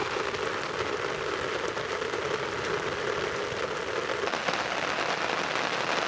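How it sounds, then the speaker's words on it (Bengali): Heavy monsoon-style village rain with big drops pours down steadily, a dense continuous hiss of drops drumming on surfaces, loud and close, with no voices. "এখন মুষলধারে বৃষ্টি হচ্ছে। দেখুন বৃষ্টি ফোঁটাগুলো কত বড় বড় ফোঁটা।"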